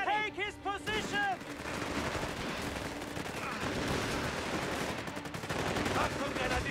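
MG-42 machine gun fire in a Company of Heroes 3 multiplayer battle: dense, continuous automatic bursts mixed with other gunfire, loud and sustained, after a brief shouted voice at the start.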